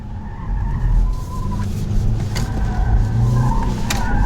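BMW M Sport sedans on a test course slide through a turn with the rear wheels sliding, tires squealing in long shrill streaks over a loud engine roar, fairly close.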